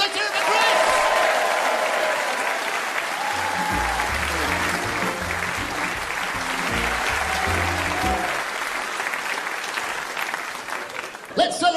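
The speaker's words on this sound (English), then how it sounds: "Give him a round of applause." A comedy show audience applauds a guest, a full steady wash of clapping from a crowd, while a low rhythmic music bed starts underneath partway through, and a voice breaks in at the very end.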